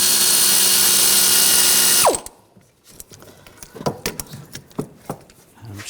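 A socket ratchet working on the rear brake caliper bolts of a 2000-2006 BMW X5, sharp irregular clicks and ratcheting up close after a loud steady noise cuts off.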